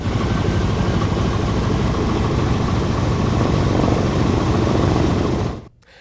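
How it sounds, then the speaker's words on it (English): The engines of a vintage Boeing B-17 bomber rev in a loud, steady roar that holds evenly, then cuts off abruptly near the end. "That's the sound of the engines revving on a vintage B-17 bomber,"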